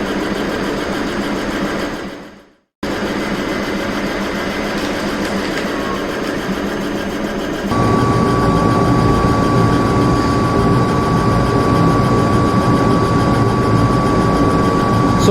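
A laser cutting and marking machine with a 460 by 300 millimetre work area runs with a loud, steady mechanical drone, briefly cutting out, then resuming with a higher sustained whine.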